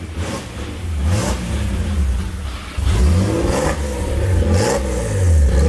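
A Nissan R33 GTR fitted with an HKS crate engine and a single turbo revs hard in repeated loud pulls, the engine rising and falling close by with a rough, whirring edge and no talking.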